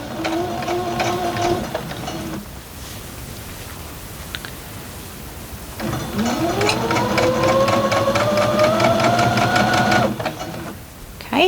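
A sewing machine pushes through a thick quilt seam in two close, loud bursts of stitching, with a short silent pause between them.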